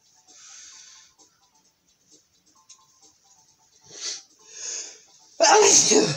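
A single loud, close sneeze bursts out at the end, preceded by faint breathy sounds and quiet background noise during a Mario Party game session.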